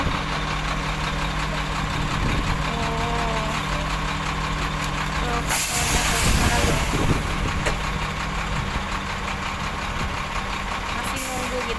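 Trucks idle in a queue of vehicles at Merak port, a steady low engine rumble throughout with a sharp burst of louder noise midway and voices talking over it.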